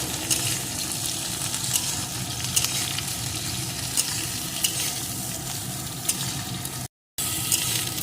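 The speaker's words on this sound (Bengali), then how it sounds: "টুকরো করে কেটে রাখা একটা বেগুন বেগুনটাও একটু ভেজে নেব" Chopped eggplant and potatoes fry in a pan for a drumstick-flower dish, giving a steady, close sizzle with faint stirring throughout and a brief dropout near the end.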